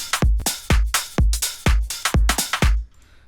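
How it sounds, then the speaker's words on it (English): A future house drum pattern of punchy kicks alternating with crisp claps in a tight, steady four-on-the-floor groove, about a dozen hits loud and upfront, stopping abruptly before the end with no talking. "you could just add a kick and clap"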